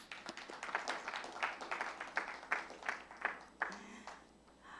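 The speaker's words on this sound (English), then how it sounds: "Please give a big applause for all of us." A conference audience claps in a steady, moderately loud round of applause with distinct individual hand claps, continuing for several seconds before tapering off.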